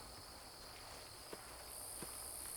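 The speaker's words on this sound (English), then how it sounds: "Cicadas. And there's insect noises," Steady high-pitched insect buzzing fills the background, a constant shimmering drone at low volume, with a couple of faint soft taps in between.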